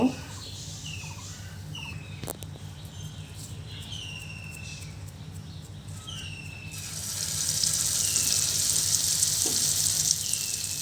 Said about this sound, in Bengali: আরও যেগুলো আছে ওগুলোও আমি ভেজে নেব